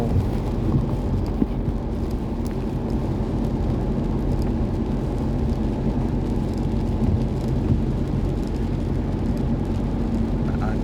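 Steady, dense hiss of rain falling continuously, with a low rumble underneath and no voices.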